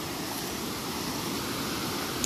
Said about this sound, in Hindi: ये देखिए मंदाकिनी नदी